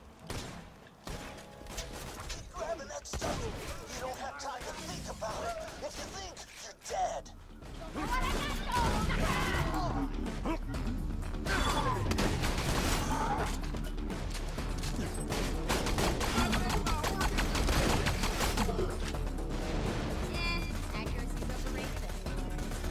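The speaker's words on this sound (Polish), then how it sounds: "Wybuchy." Loud, dense bursts of explosions and crashing impacts from the video game Borderlands 2, building after a quieter opening and continuing steadily, with voices talking over them.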